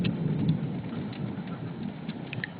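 Rain pours down in a thunderstorm over a parking lot, a steady dense wash of rainfall with low rumbling thunder beneath, heard continuously and without voices.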